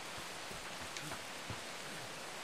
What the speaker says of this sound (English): Here it's raining